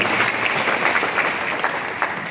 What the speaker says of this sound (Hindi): दोस्तों एक जोरदार तालियां होनी चाहिए।